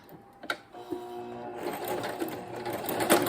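A sewing machine runs a quarter-inch seam joining two fabric ends, its steady motor whir rising and staying loud and close after a brief start.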